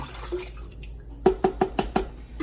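Water from a half-filled sauce jar is poured into a pot of marinara for meatballs and pasta, heard as a quiet trickle followed by a close run of five or six sharp splashy glugs in steady rhythm.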